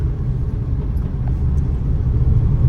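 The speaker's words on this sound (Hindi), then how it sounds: "थर्ड गियर बीच में आके सीधे आगे थर्ड गियर, छोड़ो क्लच धीरे धीरे, ये बढ़ाओ स्पीड" Car driving and gaining speed in third gear during a driving lesson, a steady low engine rumble holding throughout at close range with no pauses.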